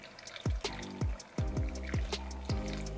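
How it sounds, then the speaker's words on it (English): Water is poured in short separate bursts onto dry LECA clay pebbles around a syngonium plant, giving six or so quick splashing fills that trickle and drip between pours. "we're gonna give him some water too on top of his dry ass LECA"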